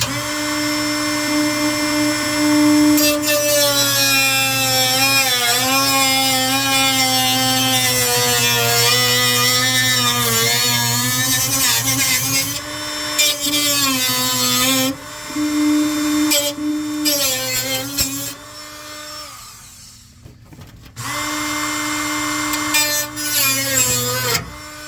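An old Black & Decker rotary tool grinds on a car's passenger-side A-pillar, a loud, close, high-pitched whine that wavers with pressure, cuts out briefly several times and then starts up again.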